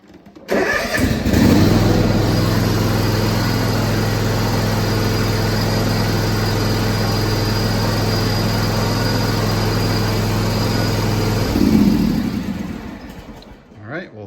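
John Deere x360 lawn tractor engine with a new coil and plug wire, choked as it cranks and catches, then runs loud and steady close by for about ten seconds before revving briefly and shutting off.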